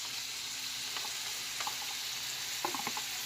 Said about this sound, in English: I'm going to add the shrimp in here